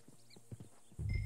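Horse hooves clip-clop in a short irregular run, followed by a louder rough burst like a snort or whinny, in the Red Dead Redemption 2 video game with faint ambient background.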